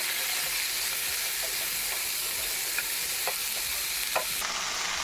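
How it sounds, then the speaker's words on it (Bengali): Potatoes frying in hot oil for a Bengali bata fish curry, a steady close sizzle and hiss with a few faint stirring clinks. "খুব ভালো করে ভেজে নিচ্ছি। এবার কিছু আলু দিয়ে দিলাম।"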